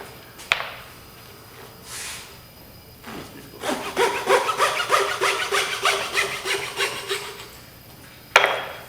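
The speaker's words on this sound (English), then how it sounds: "So I'm just randomly cutting some strips here to show you some things." Strips of material are cut by hand in a fast, rhythmic run of short rasping strokes, preceded and followed by a few isolated knocks and clatters, close and fairly quiet.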